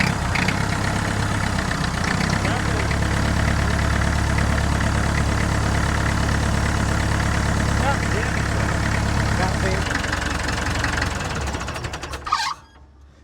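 1962 Lancing diesel forklift engine idling loudly and steadily with a rhythmic clatter and a persistent high squeal, then cutting off near the end with a brief knock before falling quiet.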